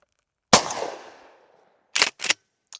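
A suppressed 12 gauge short-barreled shotgun fires a single birdshot round, a sharp loud blast with a long decaying tail, followed by a few shorter clattering bursts of handling noise.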